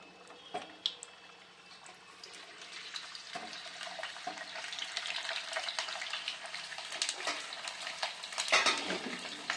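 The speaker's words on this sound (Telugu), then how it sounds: "ఇప్పుడు నూనె మరిగిపోయిందండి దీంట్లోకి మనము ఉసిరికాయల్ని వేసి వేయించుకుందాం" Indian gooseberries fry in hot oil, a soft sizzle building steadily with occasional pops and faint stirring, fairly quiet and close, with no voices.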